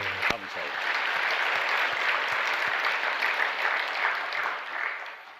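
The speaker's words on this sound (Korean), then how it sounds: "우리가 감사해서 박수 한번 드릴까요?" A Sunday sermon congregation breaks into applause, a dense, even wash of many hands clapping continuously at moderate loudness, with a few voices faintly underneath.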